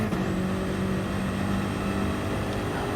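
Race car engine lapping the Nürburgring Nordschleife in Gran Turismo Sport, a continuous loud droning engine note with a steady pitch throughout.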